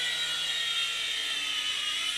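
A Fu Qi FQ777 RC flying bubble shark hovers close by, giving off a steady, high-pitched whirring buzz from its small propellers that holds level for the whole stretch with no talk.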